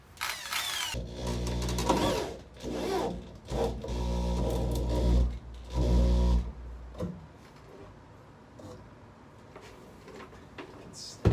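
A power drill drives self-tapping screws into wooden furring strips inside a van build, with several loud, close bursts of whining motor over the first seven seconds, then quieter handling noises and light clatter.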